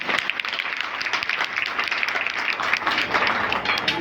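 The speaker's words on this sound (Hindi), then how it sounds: "आप तालियां बजाकर इन सब कलाकारों का स्वागत करें" An audience claps continuously in welcome of performers at a staged Bhagavad Gita singing and drama event. The dense applause is loud and sustained with no breaks, and faint voices sit beneath it.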